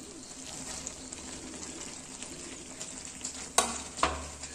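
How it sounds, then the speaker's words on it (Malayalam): Grated coconut stirred in a hot cooking pan, a steady soft sizzle with faint scraping, ending in two sharper clinks of a spoon against the pan. "തേങ്ങാപ്പൂവ് ചേർത്ത് നന്നായി ഇളക്കി കൊടുക്കണം."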